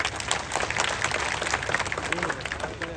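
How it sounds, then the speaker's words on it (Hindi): Villagers at an anti-drug pledge gathering in Singar village, Mewat, applaud loudly, a continuous crowd clatter of many hands with faint voices mixed in. "उनके लिए जोरदार तालियां बजाई जाए"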